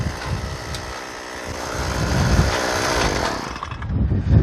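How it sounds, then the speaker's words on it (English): An engine-powered drill runs on a placer gold exploration site, a loud steady mechanical roar that builds and churns with rumbling pulses toward the end, with no voices. "we'll go ahead and move this drill over to the next site and we'll punch the next hole"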